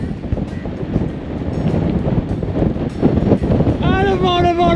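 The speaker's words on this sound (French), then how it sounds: "Ah le vent, le vent, le vent!" Strong wind roars and buffets close against the microphone while riding a Specialized Turbo Como urban e-bike, a constant heavy rush, with a few tonal whistles near the end.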